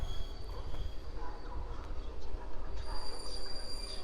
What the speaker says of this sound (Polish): I rusza dart.